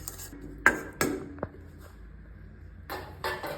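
Okra fry stirred in a pan, a spoon scraping and clinking against the metal in a few sharp knocks, then a quieter stretch and another burst of scraping near the end, close and clear with no talk.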